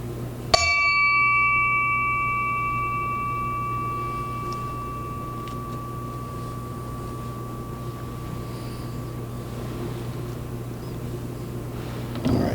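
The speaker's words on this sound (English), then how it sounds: "we will toll bell for our departed" A single bell is tolled once at a Rotary club installation ceremony in memory of a departed member, the clear strike ringing out and slowly decaying over many seconds in a quiet room, with a faint second tap near the end.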